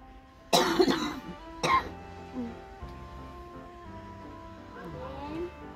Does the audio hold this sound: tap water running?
no